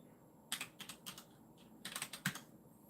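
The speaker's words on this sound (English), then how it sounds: "I gotta type in my email." An email is typed on a computer keyboard, two quick clusters of crisp, close keystrokes separated by a short pause in a quiet room.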